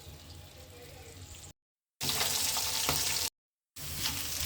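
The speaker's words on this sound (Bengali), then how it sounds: "পেঁয়াজ ভাজি করি" Onions fry with a bright, continuous sizzle in a pan for a fish bhuna, the sound cut by two brief silent gaps.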